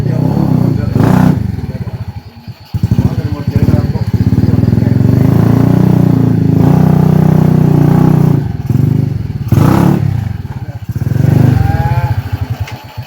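A large motorcycle engine revs loudly and close by in a rural setting, its throbbing roar swelling and dipping in several bursts over about thirteen seconds while people talk over it.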